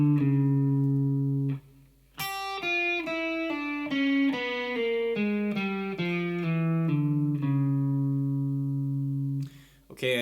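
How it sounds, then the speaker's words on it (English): An electric guitar plays a descending half-whole diminished scale run with every note fretted. Clean single notes step steadily downward after a sustained opening chord and end on a held low note, close and distinct. "let's just listen to the descending scale run, this descending half-whole diminished scale run."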